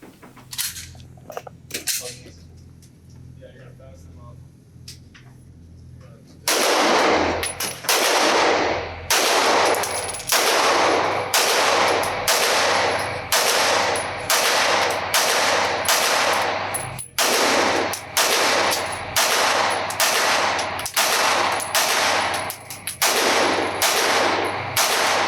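A Sig Sauer P320 Spectre Comp pistol with a compensator fires on an outdoor range: after a quiet start, a long run of loud, sharp shots follows in quick, rhythmic strings with short pauses between them.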